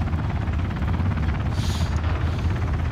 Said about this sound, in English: Get on the helicopter.